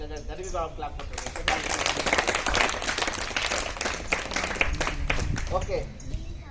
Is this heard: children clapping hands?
yes